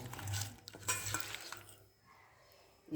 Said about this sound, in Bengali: আমি এবার ভিতরে মাছগুলো দিয়ে দিচ্ছি